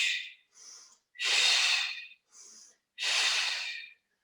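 Five breaths alternate at close range: short, soft inhales between longer, forceful breathy exhales, each lasting about a second, with no talking, while someone holds a beginner Pilates seated rotation.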